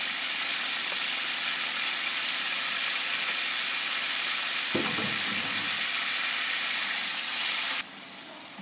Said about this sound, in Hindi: प्याज डालकर थोड़ी सी बुनाई कर लेंगे